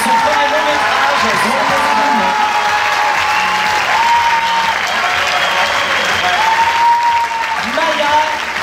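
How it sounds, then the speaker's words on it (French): Cinema audience at a Paris film premiere at Le Grand Rex applauding, a dense, steady wash of clapping that holds loud throughout, with voices rising over it now and then. "Un applaudissement, bravo."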